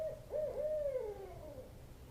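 An owl hoots in the countryside, a soft wavering call repeated a few times at moderate distance, heard alone against quiet outdoor background.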